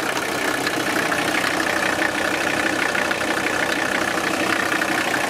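A 1982 Mercedes 300TD diesel idles steadily just after a cold start, a dense, continuous rumble with a clattering knock that holds at an even level throughout, with no talk.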